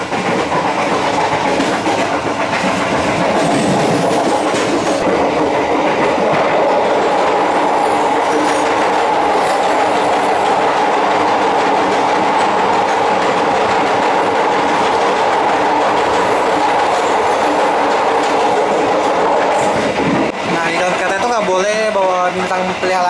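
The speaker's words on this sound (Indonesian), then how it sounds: "Setelah stasiun ini, kereta akan melintasi jembatan." A passenger train on the Jakarta–Yogyakarta line crosses a bridge, with rhythmic clatter of wheels on rails, a loud continuous roar that shifts near the end with squealing tones.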